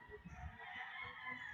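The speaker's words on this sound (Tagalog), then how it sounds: "Makikita mo sa likod ko yung mga manok." Chickens cluck faintly in the background on a farm, a few soft calls over a low, steady hum of distant noise.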